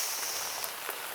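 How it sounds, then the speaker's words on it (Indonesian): Light drizzle falling on a tarp shelter at a bushcraft camp in Indonesia, a steady soft hiss with a few faint drop taps, close and quiet. "Masih gerimis"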